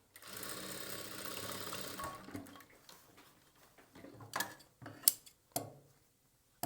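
Sewing machine double-stitching churidar bottom fabric, running steadily for about two seconds, then stopping and giving a few short bursts and clicks as the stitching ends.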